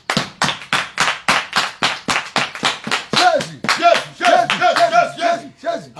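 A church congregation claps hard in a steady, even rhythm, then joins in loud acclaiming voices while the clapping carries on underneath.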